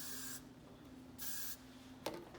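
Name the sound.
hairspray being sprayed on a ponytail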